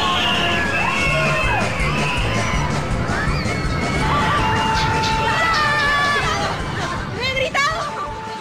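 Riders scream on the Fénix free-fall ride at Terra Mítica theme park, a loud, sustained chorus of high shrieks and yells that rise and fall over crowd babble.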